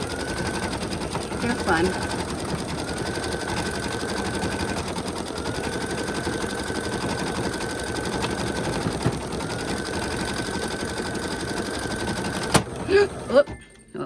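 An embroidery machine stitches in a fast, steady mechanical rattle with a repeating tonal hum, then halts abruptly near the end with a few sharp clicks as the needle breaks; a voice speaks briefly over it.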